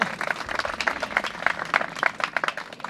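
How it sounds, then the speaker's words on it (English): Wedding guests clap after the vows in a short, moderately loud burst of scattered applause from a small crowd, with no one speaking. "is it appropriate to clap after vows?"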